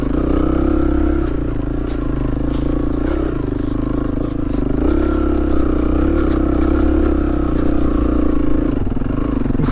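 A Husqvarna 300 TEI enduro motorcycle climbing a slope off-road, its two-stroke engine droning loudly and steadily close by with some clatter, no talk.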